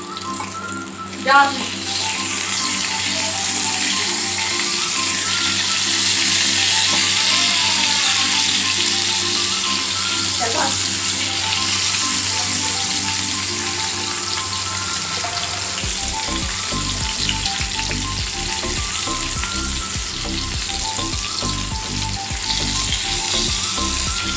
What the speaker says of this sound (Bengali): লবণ আর হলুদ দিয়ে পটলটাকে কিন্তু আমি সুন্দর করে লাল লাল করে ভেজে নেব।